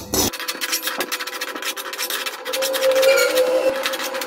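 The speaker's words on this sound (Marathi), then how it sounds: "ती आता व्यवस्थित अशी बारीक गॅसवरती भाजून घेणार आहे." Poppy seeds are dry-roasted in a pan over a low gas flame and stirred, giving a close, continuous scratchy rubbing and scraping with a brief sharper hiss near the start.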